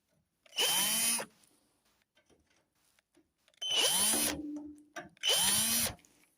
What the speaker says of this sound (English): Just take these screws out.